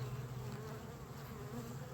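A honeybee colony works in a small resource hive in spring, giving a continuous close buzzing hum at moderate level.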